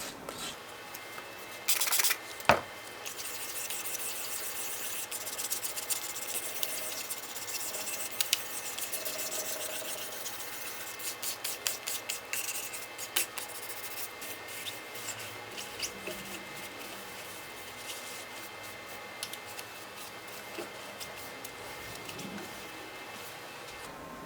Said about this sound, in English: now I'm going to hit it with some 800 grit. Just a real light sanding